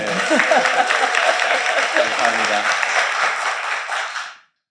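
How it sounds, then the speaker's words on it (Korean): A studio audience at a political talk broadcast on prosecution reform gives a steady burst of applause that runs for several seconds, with a speaker's voice briefly over it, then cuts off abruptly. "박수 한번 주세요"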